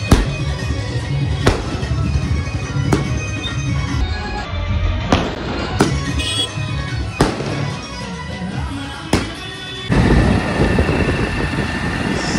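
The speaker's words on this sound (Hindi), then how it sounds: "सामने हुई है आतिशबाजी," Loud, sharp firework blasts crack out at irregular intervals over a steady rumble of traffic on a Delhi street, with a denser burst of noise near the end.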